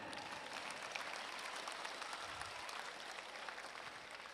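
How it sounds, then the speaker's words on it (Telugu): An audience of students at a school motivational talk claps together, a dense, even patter of many hands heard from a distance and fairly quiet, sustained throughout with no voices over it. "advance claps కొట్టున్నాను"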